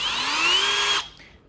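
A Milwaukee M12 FUEL 2598-22 hammer drill runs at a steady high whine with its pitch rising slightly, then cuts off abruptly and spins down into near silence.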